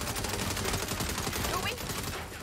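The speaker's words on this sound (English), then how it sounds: "Why am I seeing gunfire at the back of that convoy?" Gunfire in the Saints Row video game, rapid continuous bursts of shots packed densely across the whole stretch, loud and unbroken, with some talk mixed in.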